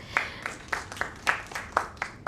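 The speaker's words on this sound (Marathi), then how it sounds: "जोरदार टाळ्या होऊ दे" At a stage drama event, clapping rings out in a quick, even rhythm of distinct claps, fairly faint and sparse rather than a full roar.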